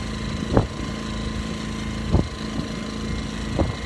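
A steady motor drones throughout, with three brief louder surges or thumps spaced a second or two apart, nearby and fairly loud.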